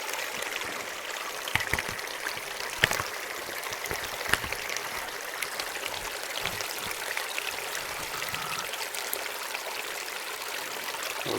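Water from a hose runs steadily through a hobby mining high banker fed from a 5-gallon bucket, making a continuous close splashing and trickling rush with occasional louder drips and knocks.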